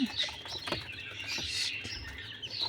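Small chicks peep in quick, high chirps, scattered and fairly faint, with light rustling underneath.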